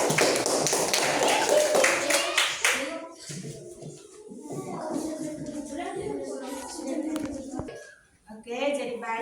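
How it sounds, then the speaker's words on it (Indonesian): A classroom audience claps for a student group after their presentation, a dense burst of applause for the first few seconds that quickly fades, followed by the murmur and chatter of children's voices. "Sekarang kita berikan tepuk tangan untuk kelompoknya Diego."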